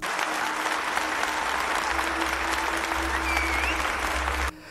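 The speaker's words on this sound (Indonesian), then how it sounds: "membuat penonton bertepuk riuh untuknya" A theatre audience applauds loudly, a thick, continuous roar of many hands clapping that stops abruptly just before the end.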